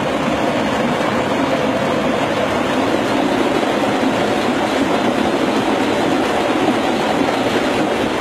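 A train passes behind a factory, its steady, loud rumble and rolling clatter continuing without a break, with no one speaking.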